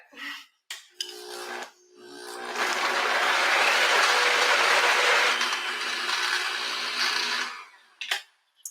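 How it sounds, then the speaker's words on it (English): An electric blender whirs through banana, pineapple and mango for a smoothie bowl, a loud, rough motor roar of about five seconds after a few short start-up bursts, then cut off with brief clatter. "So we don't want to burn out the blender."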